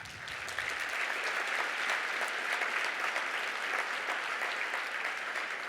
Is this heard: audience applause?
yes